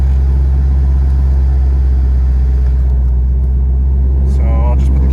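A 2016 Ford Mustang GT350 in Competition Orange idles with its exhaust running, a steady deep rumble close by that holds evenly throughout, with a brief higher mechanical whine near the end.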